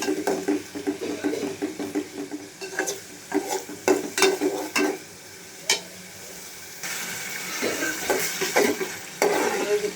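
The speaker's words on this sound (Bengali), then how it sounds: "পেঁয়াজ কষানো হচ্ছে" Onions sauté in a pan for a pangas fish bhuna curry, a soft sizzle running beneath repeated scraping and stirring strokes of a utensil against the pan, close by and fairly quiet.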